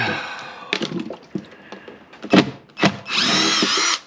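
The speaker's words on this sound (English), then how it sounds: "I guess we'll start pulling screws out for it, because it's not staying." A power drill backs screws out of a galley during an interior demo, with short stop-start whirs and clunks, then a sustained close, loud spin near the end and no talk.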